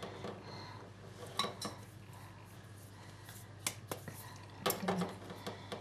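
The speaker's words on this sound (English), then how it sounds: "So I'm going to put the ghee into a spoon." Metal spoon scooping ghee from a jar in a home kitchen, giving scattered light clinks and scrapes, several sharp ticks spread across the stretch, fairly close and quiet over a steady low hum.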